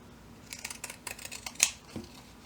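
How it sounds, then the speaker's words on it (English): Pinking shears snip along the edges of fabric bunting, a quick run of close, crisp cutting crunches with one sharper snip near the end, no talking. "So I'll usually just take my pinking shears to my edges"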